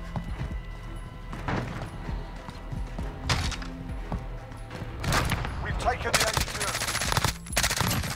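Honey Badger assault rifle fire in a first-person shooter game, bursts of rapid shots mixed with a busy battlefield din and other game effects, with a voice talking over parts of it.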